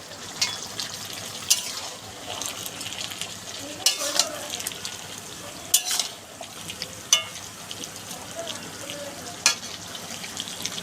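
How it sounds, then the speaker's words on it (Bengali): Jackfruit and shrimp curry with sugar is stirred in a frying pan, a steady sizzle running under it. Sharper scrapes and clinks from the spoon land every second or two, with no voices. "এবার 2 চামচ চিনি দিয়ে ভালো করে নাড়িয়ে নেব"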